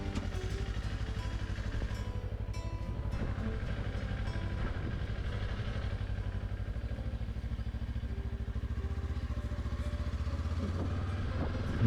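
A 2024 Kawasaki Ninja 500 is ridden at a steady pace, its fairly refined engine humming in an even, continuous drone with light mechanical rattle, close and constant throughout.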